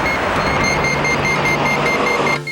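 A Japanese-style meeting pager, a dating gadget that signals when a compatible man and woman draw near, gives out a steady electronic tone. The tone stays loud and continuous and sits over a broad mechanical hum.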